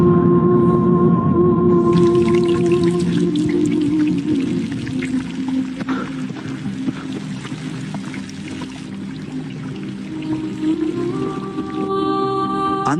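A sudden rush of water floods trenches across a valley. It makes a loud, steady roaring pour for the whole stretch, with sustained musical tones underneath.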